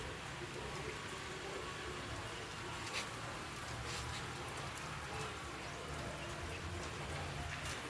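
Steady light drizzle falls continuously outdoors in the town of Pila, a faint even hiss with scattered drop ticks, low and distant-sounding, with quiet voices now and then.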